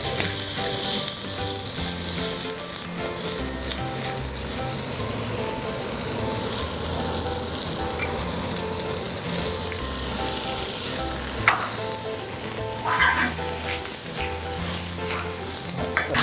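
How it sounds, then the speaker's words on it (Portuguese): Onion browning in a frying pan, a loud continuous sizzle and hiss that holds steady with occasional stirring scrapes and clinks, with no talking. "vamos deixar a cebola dar uma boa dourada"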